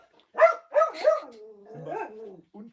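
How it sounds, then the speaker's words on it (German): A dog barks twice in quick succession, close and loud, then lets out a longer drawn-out whine and a final short yip. "Was ist jetzt los mit dem Hund?"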